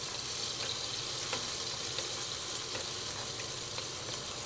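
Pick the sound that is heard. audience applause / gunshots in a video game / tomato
tomato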